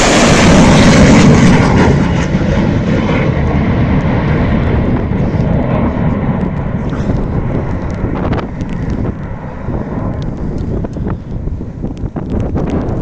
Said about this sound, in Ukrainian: На відео момент знищення нашими воїнами-зенітниками російського ударного безпілотника «Шахед» сьогодні вночі